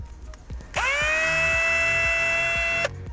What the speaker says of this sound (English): We're putting the screws in, drilling the holes.